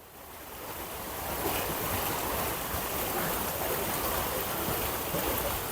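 Water from a small waterfall stream on a farm plot rushes steadily, a dense, broad, continuous roar that swells slightly in the first second and then holds even, with some wind buffeting the microphone.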